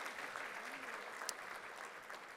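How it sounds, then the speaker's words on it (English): Audience applause at a World Trade Week award event, a faint, distant, even wash of clapping hands held steadily throughout, with a light murmur of voices beneath. "One more applause to congratulate them."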